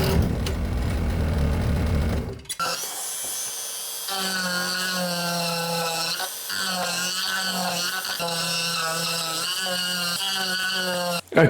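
A scroll saw cuts through a piece of wood for a wooden gift project, a steady high-pitched buzzing whine with a strong harmonic tone that runs nonstop for about nine seconds after a brief earlier noise.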